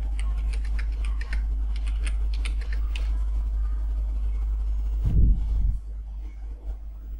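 Keys tapped on a computer keyboard while entering an institution's MPO code, a quick run of light clicks in the first few seconds with a steady low hum underneath and a brief bump near the end.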